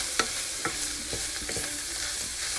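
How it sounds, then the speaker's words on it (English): Flour is stirred into a cooking pan over low heat, a soft sizzle running underneath a few distinct scrapes and taps from the utensil. "I'm going to mix it, and I'm just going to let it cook for like 1 minute."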